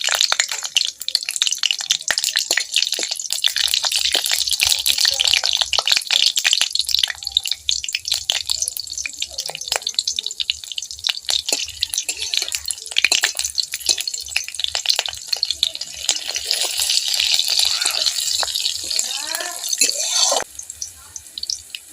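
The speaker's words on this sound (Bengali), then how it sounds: "কাঁচা লঙ্কা ভাজা হয়ে গেছে" Black cumin and two green chillies crackle in hot mustard oil in a wok, a dense, loud spatter of pops and sizzling that runs throughout.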